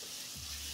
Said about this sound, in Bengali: পেঁয়াজটাকে হচ্ছে এখন একটু ভাজা ভাজা করে নিতে হবে